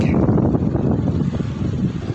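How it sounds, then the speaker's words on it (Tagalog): Strong, cold wind at a seaside beach resort in Dhahran, Saudi Arabia, roars and buffets the microphone continuously, a loud rushing gust with no break. "Kung naririnig nyo, ang lakas ng hangin."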